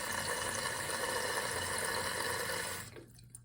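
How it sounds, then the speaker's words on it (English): A household toilet tank refills through a newly replaced fill valve after flushing, a steady, close rush of water that runs evenly, then abruptly cuts off near the end, leaving a few faint drips. "I'm going to flush the toilet to remove some water and see how it fills up again"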